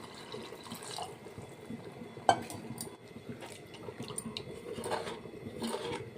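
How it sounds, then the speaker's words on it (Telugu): Water is poured from glasses into mutton curry simmering in a pot, giving a steady close liquid splash with small drips and a brief clink of the vessel. "ఇప్పుడు వాటర్ వేసుకుందామండి. 2 గ్లాసులు వాటర్ అయితే సరిపోతుంది."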